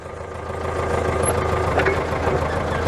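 A 30-year-old Daewoo FD 3.5-ton forklift engine runs at a steady idle, a low, continuous rumble with a slight knock, close and fairly loud throughout with no talking.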